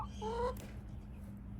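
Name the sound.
chickens clucking on a person's lap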